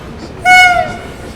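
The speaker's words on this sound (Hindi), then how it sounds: "लखनऊ शताब्दी आ रही है" New Delhi–Lucknow Shatabdi Express arriving at a station, a single loud tonal horn blast lasting about a third of a second over faint background noise.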